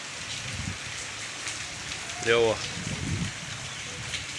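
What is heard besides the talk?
rain falling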